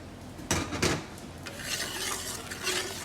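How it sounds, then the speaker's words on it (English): Fried onions stirred into a biryani masala base: a couple of loud spoon scrapes against the pot near the start, then a softer continuous rubbing and sizzling as the mixture is worked, close by and without talk. "We'll mix everything together. So we'll add the fried onions"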